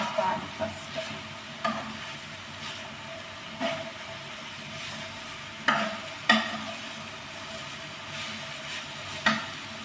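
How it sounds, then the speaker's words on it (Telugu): Carrots fry in ghee in a pan with a steady close sizzle, broken by sharp scraping clicks as they are stirred at irregular intervals. "నెయ్యినంతా మొత్తము ఇలాగా క్యారెట్ వేసి ప్యాన్ మీద నెయ్యిలోనే బాగా ఉడికించేసుకోవాలి"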